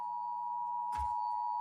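A phone notification gives off a steady electronic tone that holds for nearly two seconds, with a brief soft thump partway through; no voices.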